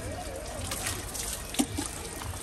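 Water trickles and dribbles steadily as a motorcycle is washed at home with water and a little shampoo, a faint, continuous splashing with a couple of small drips, and no one speaks.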